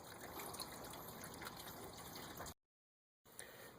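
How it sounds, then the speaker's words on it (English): Engine coolant gushes and splashes steadily from an opened water pump on a 1998 Chevrolet Lumina 3.8L V6, a continuous near liquid rush that drops to silence briefly before resuming. "just rip off the rest of the bolts and let the coolant gush out"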